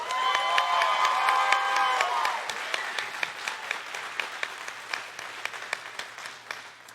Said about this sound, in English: we've got a lively crowd in the house tonight and audience